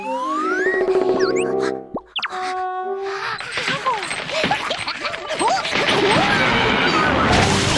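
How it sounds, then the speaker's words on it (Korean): A toy airplane in a Pororo cartoon whistles downward, then crashes with a busy, clattering jumble of cartoon-style bangs and rattles. "저런, 뽀로로의 비행기가 떨어졌어요."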